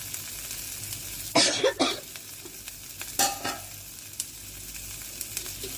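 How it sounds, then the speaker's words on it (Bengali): Hot water poured onto frying masala for mustard hilsa bursts into a sharp hissing sizzle in two quick spurts, then a second shorter burst a moment later, close by over a low kitchen background. "জলটা এই যে সঙ্গে সঙ্গে যে ফুটে গেল, এই যে একটা শব্দ হলো সম্বরা দেওয়ার মতো"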